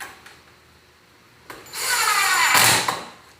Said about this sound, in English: we will finish screwing this hinge in